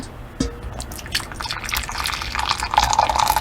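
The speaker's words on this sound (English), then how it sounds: "two cups of boiling water," Boiling water pours and splashes into a container, starting with a few drips and building to a steady, close trickle that grows louder.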